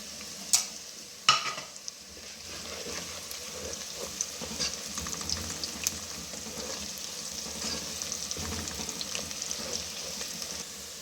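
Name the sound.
frying garlic, cardamom and bay leaf in pan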